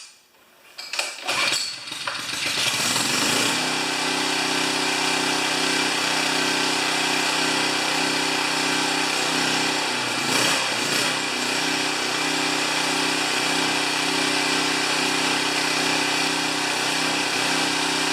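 A pressure washer motor starts with a rough catch, then runs loud and steady nearby, its drone close to surging, with a short wavering dip partway through.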